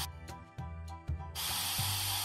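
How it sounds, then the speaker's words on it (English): Pink spray hair toner hisses from an aerosol can over a heart stencil on short hair. It starts as one loud, continuous close spray burst after a stretch of tonal music with sharp beats. "Place a heart stencil onto short hair and apply pink spray hair toner."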